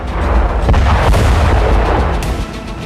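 A Ratel ground drone carrying a 35 kg payload blows up a bridge in Donetsk, a loud, deep booming explosion with a rumbling low roar that sustains for several seconds before slowly easing.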